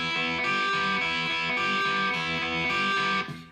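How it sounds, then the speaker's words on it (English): An overdub electric guitar part, soaked in heavy reverb, plays a loud, repetitive pattern of ringing sustained notes, alone, before trailing off at the end. "there's an overdub track that we should talk about too, that's played with, sounds like a decent amount of reverb."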